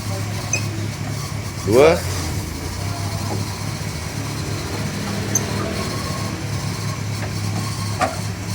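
A Nissan C20 van engine runs steadily, idling with a low hum while the gears are shifted from first to second. A brief louder rise in the engine comes early, and people talk over it.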